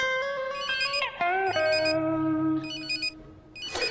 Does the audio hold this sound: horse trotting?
no